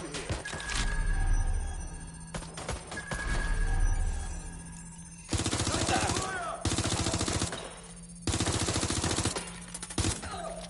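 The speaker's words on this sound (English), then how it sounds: "Taking fire!" Gunfire in Watch Dogs Legion: bursts of loud machine-gun fire alternate with single close shots, separated by short pauses.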